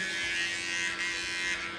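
Electric clippers shave a patient's fur before surgery, a steady close buzzing hum that runs without break and with no talk.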